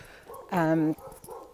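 A single loud, harmonic bark-like woof lasting about half a second, with quieter background sounds before and after; a person imitating a dog.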